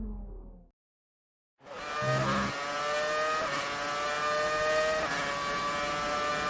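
The Ferrari Formula 1 car engine in the F1 2019 racing game, the last championship-winning Ferrari, screams at a steady high-revving whine after a brief pause, loud and continuous with harmonic tones shifting through gear changes.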